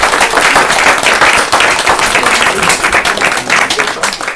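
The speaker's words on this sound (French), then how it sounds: "je tenais à vous applaudir" Loud, dense applause from an audience at an association engagement medal ceremony, a steady wash of many hands clapping for volunteers, sustained throughout without a break.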